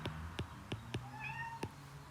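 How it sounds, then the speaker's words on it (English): A pet cat named Oscar meows close by, several short calls in a row followed by a longer, rising drawn-out meow, with no one talking over it. "that's my cat Oscar"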